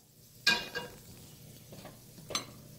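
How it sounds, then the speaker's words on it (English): Meat drippings are scraped from a pan into a crock pot for beef stew: a few sharp metal scrapes and clinks stand out, one near the start and another near the end, over a quiet kitchen background. "Scraping all the drippings right into the crock pot"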